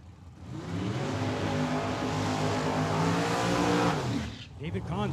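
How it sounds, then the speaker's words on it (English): A Corvette drag car does a burnout at Tucson Dragway, the engine revving hard with rising and falling harmonic tones and tire squeal for about four seconds before cutting off, with a voice talking in the background. "David Kahns extra spicy on the burnout here on the left-hand side"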